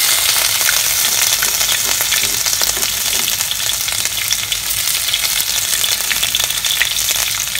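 Chopped ginger and green chilli frying in a pan, a loud, dense, continuous crackling sizzle that stays even throughout, close by and with no voices.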